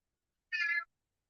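A single short cat meow, clear and fairly close, standing alone in otherwise quiet surroundings.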